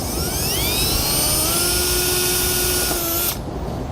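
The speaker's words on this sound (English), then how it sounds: "I'm going to go ahead and make my holes for nuts and bolts." A power drill bores holes through metal for nuts and bolts while a wiring kit is fitted to a vehicle. The whining motor runs loud and steady at close range, then cuts off abruptly near the end.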